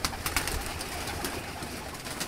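Soft cooing of Kalsara pigeons under a steady wash of noise, with occasional flutters and taps from birds moving nearby.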